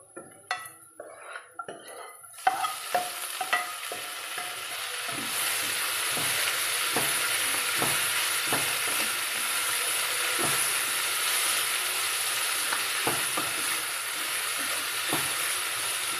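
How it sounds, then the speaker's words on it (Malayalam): Sliced mushrooms dropped into a pan of softened, sautéed onions, with clanks and scrapes of a utensil at first, then a steady loud sizzle of frying with intermittent stirring clicks against the pan. "ഇതിലേക്ക് ഈ മഷ്റൂം കൂടി ഇട്ട് കൊടുക്കുകയാണ്."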